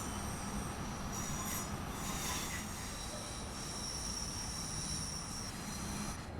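Class 390 Pendolino electric train running on the West Coast Main Line in Train Sim World 6, a steady loud rumble with thin wheel squeal above it, continuous throughout with no voices.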